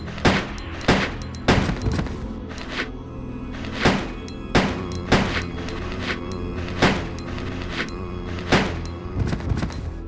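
Repeated gunshots from Resident Evil Code: Veronica, loud sharp bursts in uneven clusters, several shots fired in quick succession with pauses between, no talking.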